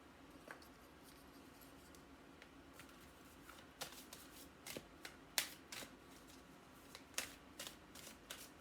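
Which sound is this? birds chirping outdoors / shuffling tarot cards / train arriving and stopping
shuffling tarot cards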